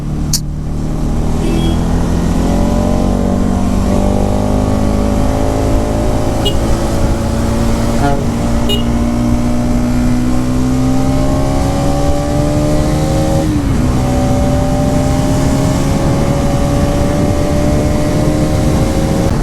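Bajaj NS200 motorcycle engine revving steadily at high speed on a road trip from Bengaluru to Ooty, a loud continuous drone that climbs in pitch through the gears, with rushing wind noise.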